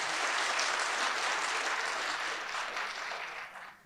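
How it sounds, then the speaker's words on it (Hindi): Audience applause at a National Youth Day talk by Swami Sarbalokananda fills the hall as a dense, steady wash of clapping that holds for several seconds and then thins and fades toward the end. "अरे भाई, हाथ ताली वाली तो दो"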